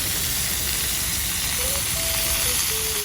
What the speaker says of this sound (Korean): 이렇게 좀 철판에서 열을 가하면서 익혀가면서 먹는 요리입니다